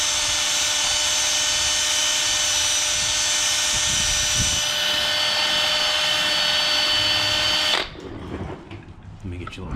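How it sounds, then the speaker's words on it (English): A small wire wheel on a power tool whines loudly and steadily as it scrubs rust off a Honda TRX 450ER ATV part, then cuts off abruptly near the end, leaving quieter handling noise. "I just use a little wire wheel,"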